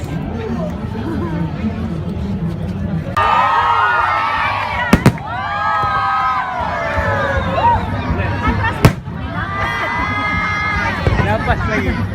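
Fireworks at the Sinulog 2017 festival go off in two sharp, loud bangs several seconds apart. A busy crowd talks and calls out throughout, with people speaking close by.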